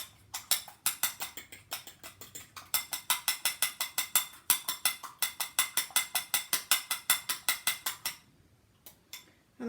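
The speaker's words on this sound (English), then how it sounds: "I'm going to beat that egg nicely to mix up both the curry and the white" Egg and curry beaten in a bowl, a quick run of regular sharp clicking strokes close to the listener that stops near the end, with no talk.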